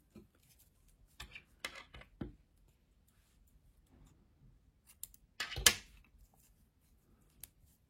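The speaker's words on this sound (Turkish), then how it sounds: "Beyaz ipliği kesiyorum." Scissors snip through white thread in a quiet setting during a crochet or knitting row, giving a few short, sharp clicks and snips, including one louder cut in the middle, with no talking.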